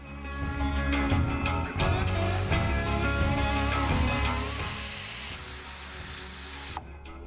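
Air hissing steadily out of a truck tire through the built-in deflator hose of a Viair compressor, bringing it down from 60 to 40 psi, a loud continuous near rush with faint clicks at the start, stopping abruptly near the end.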